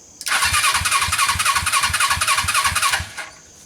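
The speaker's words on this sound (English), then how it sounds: "So I'm kicking the engine over" A Suzuki GS500 engine fitted in a mini buggy is cranked over, a rapid rhythmic chugging with a harsh whirring layer running for about three seconds before cutting off, close and loud.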